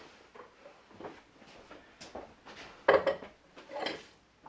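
Kitchen bowls are taken out and handled, giving soft clinks, knocks and rubbing contacts scattered through the clip, close but quiet, with one sharper clatter near the middle.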